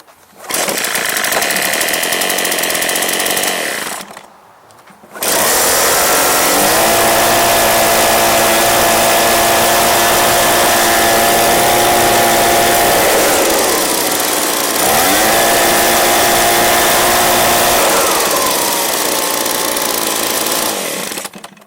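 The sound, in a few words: Echo PB265LN backpack blower engine running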